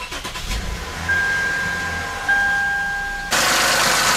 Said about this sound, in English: let's hop in and start the engine